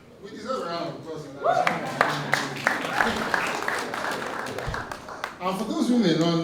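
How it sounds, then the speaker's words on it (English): Audience applause at an investment conference in New York, a broad burst of clapping that rises and holds, with voices and crowd murmur mixed in beneath it. "We deserve a round of applause."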